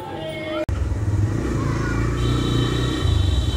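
A TVS Apache 160 RTR motorcycle rides off, its engine a steady near rumble with rising revs after a brief dropout, under faint street background.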